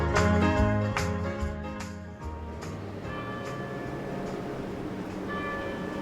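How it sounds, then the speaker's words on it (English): Cathedral church bells in Gloucester ring out in a run of resonant strokes, loudest at first then fading to a quieter, distant pealing. "You might be able to hear the bells ringing in the background."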